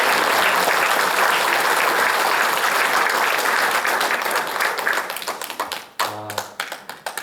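A church congregation at a Sunday service in Busan claps loudly together to welcome newcomers, a dense sustained wash of applause that thins into scattered claps and fades near the end.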